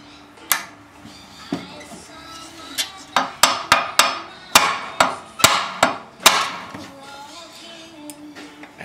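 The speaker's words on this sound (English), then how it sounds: "Hit it there with a bit of aluminium now." A flywheel being hammered loose with a piece of aluminium, a series of sharp metallic strikes, single at first then a quick irregular run of about a dozen close blows, with people talking briefly in between.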